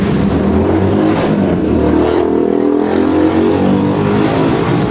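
Loud, steady engine drone of motorbikes close by at night, continuous and rumbling without a break.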